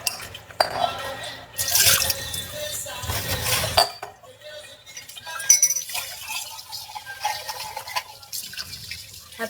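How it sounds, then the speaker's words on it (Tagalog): Dishes being washed under running water, with a splashing gush of the tap and intermittent clinks of plates and glassware, close by, with a voice talking at times. "Sabi ko, maghugas ako ng plato"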